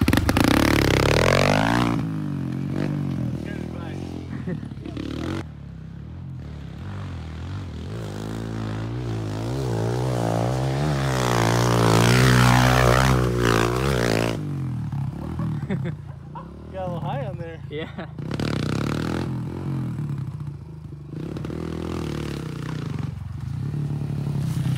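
A Kawasaki KLX 140 dirt bike engine revs on motocross berms, its pitch climbing and falling as it is held open through turns, with people talking over and between the passes.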